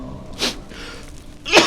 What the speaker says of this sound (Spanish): Y sigo estornudando.